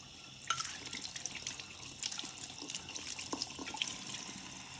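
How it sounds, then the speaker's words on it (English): Running water rinses etching cream off glass after armor etching, a steady close splash and trickle from a tap over a sink with small drips, no talking. "I like to give it a good washing."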